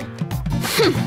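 One sharp sneeze sounds close and loud indoors, a quick breathy burst that ends in a short voiced tail.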